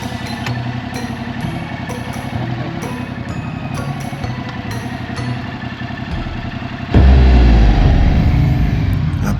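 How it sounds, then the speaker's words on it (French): A motorcycle idles with a steady clattering engine, then revs up sharply and pulls away, the engine note becoming loud and close as it sets off. "Après 20 ans sans toucher une moto, voici son premier départ."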